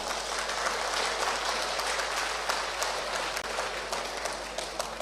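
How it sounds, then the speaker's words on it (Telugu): A crowd claps in sustained, dense applause at a Telugu political gathering, a steady loud patter of many hands running throughout with no pauses. "మన తీన్మార్ మల్లన్న గారికి అందరు చప్పట్ల ద్వారా"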